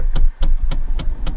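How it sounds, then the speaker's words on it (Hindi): A Mahindra Bolero Neo makes a dashboard knocking on engine start: five sharp, evenly spaced knocks roughly a quarter second apart, loud and close over a low engine rumble, with no talking. "जैसे ही स्टार्ट होती है गाड़ी वैसे एक आवाज़ आती है"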